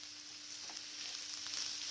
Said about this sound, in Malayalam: സവോള 3-4 എണ്ണം നീളനരിഞ്ഞ് പച്ചമുളക് കൂടി ചേർത്തിട്ട് നന്നായി വഴറ്റി കൊടുക്കാം